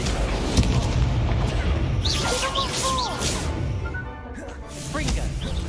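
Incendio fire spell cast in the Hogwarts Legacy video game: booming bursts and whooshing impacts of magical combat, loud and layered with game effects and tonal chimes, briefly dipping before resuming.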